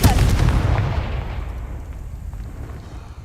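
A Confringo explosion spell cast in Hogwarts Legacy bursts with one loud, close boom at the start, then a long rumbling tail fades away over a few seconds.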